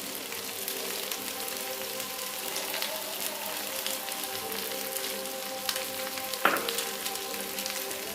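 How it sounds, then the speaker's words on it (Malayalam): Ground spice paste fries with chicken in a pan, giving a steady close sizzle throughout, with a single clunk of stirring partway through. "അപ്പോൾ ആ ചിക്കനകത്തേക്ക് നമുക്ക് അരച്ച് വെച്ചിരിക്കുന്ന അരപ്പിട്ട് കൊടുക്കാം"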